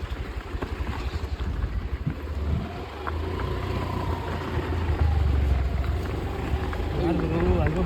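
A Honda Dio scooter engine revving, its buzzing tone climbing in pitch toward the end, with heavy wind buffeting the microphone and a rough, unsteady background.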